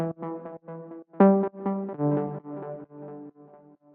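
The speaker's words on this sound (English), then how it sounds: "it just is a very simple lead that sounds like this" A simple, heavily filtered synth lead plays chords in a melodic house track, a soft rounded tone stepping through short repeated chord stabs at a steady rhythm, alone and fairly quiet.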